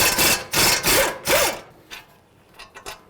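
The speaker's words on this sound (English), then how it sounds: "next we're gonna take off our caliper bracket bolts. They're 21 millimeter." A tool loosens and removes 21 mm caliper bracket bolts on the front brakes of a 2008-16 Chrysler Town & Country. A quick series of five close ratcheting and grinding bursts is followed by a few fainter scrapes and clicks.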